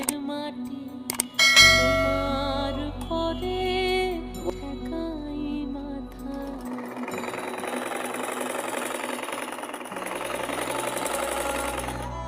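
A sewing machine, just rethreaded with its bobbin after an upper-stitch tension fault, runs close by, opening with a humming motor drone and then shifting into a steady, busy mechanical rattle.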